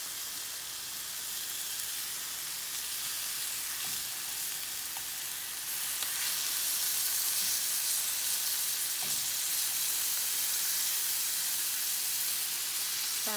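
A salmon fillet browns in a hot frying pan, giving off a steady, loud sizzle and hiss that swells slightly partway through, with a few soft clicks and no talking.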